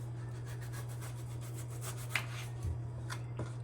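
A knife cuts through raw mangoes with their peel on for pickle, making a steady, close rhythmic scraping and rubbing with a few sharper knocks, over a constant low hum.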